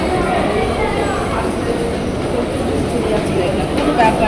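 A Kolkata suburban local train runs with a steady, loud rumble and rattle of carriages throughout, with faint clacking over the tracks.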